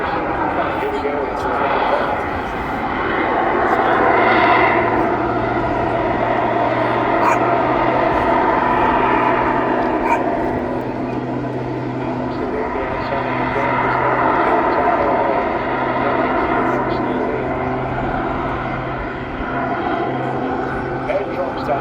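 An aerobatic airplane's engine drones and swells in pitch through a manoeuvre at the English Riviera Airshow, heard at a distance under continuous commentary from a voice.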